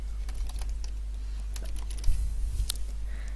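Steady clicking of fingers typing code on a computer keyboard, a continuous run of close, crisp keystrokes with a slightly heavier burst near the end.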